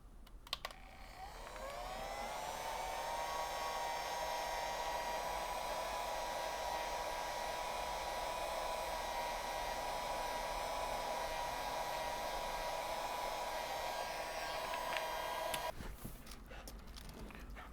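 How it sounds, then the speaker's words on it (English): A steady, loud blowing roar of a Harbor Freight heat gun warming the front of a device for prying open runs continuously for about fifteen seconds, then cuts off abruptly, leaving quiet room sound. "I'm going to apply heat using a heat gun I got from Harbor Freight"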